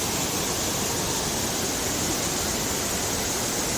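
Li Phi waterfall on Don Khon in southern Laos roars as a constant, even rush of falling water, steady and unbroken with no voices over it.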